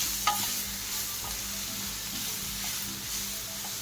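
Grated carrot mixture stirred as it fries in a pan, a continuous close sizzle with soft scraping strokes of a spoon and no voices.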